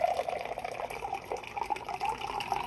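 Unsweetened Summer Passion Breeze tea poured out, a steady liquid gushing and splashing heard close up, continuous for a few seconds with no talk.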